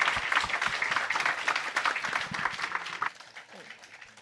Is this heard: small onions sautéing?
no